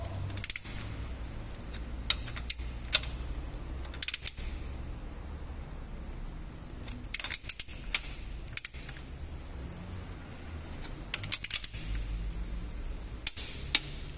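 Torque wrench clicking while tightening bolts to 8 kg on a GM engine, sharp ratchet clicks in short scattered clusters over a quiet background hum.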